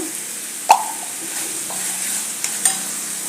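Spices such as turmeric and coriander-cumin powder being stirred into a pan of frying tomato bhaji, with a soft steady sizzle, one sharp spoon scrape near the start and a few light clicks later.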